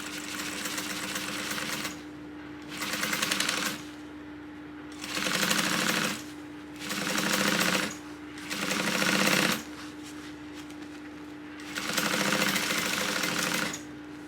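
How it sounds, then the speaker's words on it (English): Sewing machine basting a tote bag runs in five short bursts of rapid stitching, each a few seconds long, separated by pauses with a steady motor hum, close and loud. "I'm just going to baste this down."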